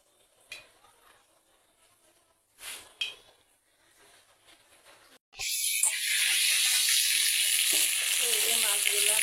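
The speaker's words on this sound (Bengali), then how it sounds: "এই যে মাছগুলো এখন ভেজে নেব।" Fish drop into hot oil in a pan and a loud, steady sizzle and crackle starts up abruptly and keeps going, close by. Quiet clatter and handling noises come just before it.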